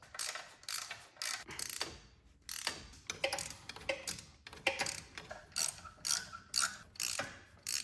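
A socket ratchet clicks rapidly in repeated bursts while loosening 10mm header bolts on a C5 Corvette. The sound is close and crisp, with no talk.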